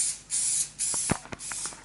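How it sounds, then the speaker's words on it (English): Cooking oil is sprayed from a can into a heating pan in a couple of short, loud hissing bursts, followed by light clatter and small knocks nearby, with no talking. "Now heat up your pan, and you're gonna give yourself a little spray."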